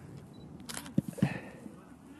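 Canon DSLR with a 55-250 IS II lens firing its shutter at fast speed during sports shooting: two quick mechanical clicks about a quarter second apart, close and crisp over a quiet background.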